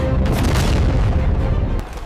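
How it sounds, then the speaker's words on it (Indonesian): An Iranian missile strike explosion roars as one loud, sustained rumbling boom, then fades slightly toward the end. "Saat amunisi Israel menipis, rudal-rudal paling mematikan Iran dilepaskan."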